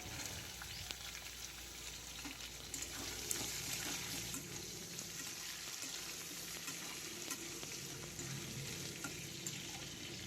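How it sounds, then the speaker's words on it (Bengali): Potatoes and chopped onion fry in oil in a pan, giving a faint, steady sizzle with occasional scraping and stirring, heard alone without any talk. "আলুগুলো তেলের মধ্যে দিয়ে দিয়েছি, দিয়ে ভালো করে নেড়ে চেড়ে ভাজা ভাজা করে নেবো"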